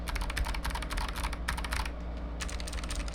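Dense, rapid clicky keystrokes on a Razer Huntsman Mini keyboard with clicky optical switches, close and steady, with a short pause near the end before typing resumes.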